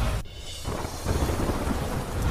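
Steady rain pours over rural countryside with a low, rumbling roll of thunder running beneath it, broad and continuous, with gusts of wind buffeting the microphone.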